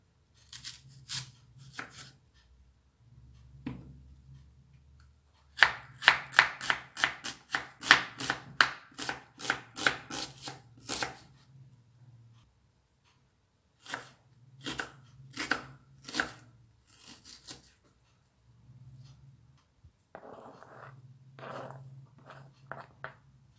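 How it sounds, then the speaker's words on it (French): An onion and a bell pepper being finely chopped with a knife, brisk rapid bursts of knife taps on a board separated by short pauses, close and clear with no talk. "je vais couper l'oignon et le poivron finement"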